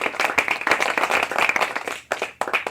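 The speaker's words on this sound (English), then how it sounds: "We're applauding you" A small group claps in applause, dense irregular hand claps continuing steadily, close and fairly loud, thinning briefly near the end before resuming.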